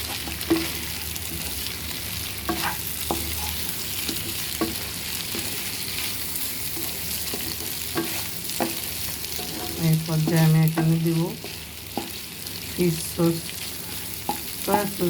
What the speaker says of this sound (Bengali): এবার সবজিগুলো আমি এখানে ঢেলে নিব